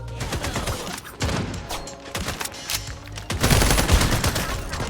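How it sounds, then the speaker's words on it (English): Rapid gunfire bursts from the online shooter FragPunk, dense and loud, with a heavier volley near the end and a commentator speaking briefly over it. "Good shots. Great shot, Sydney."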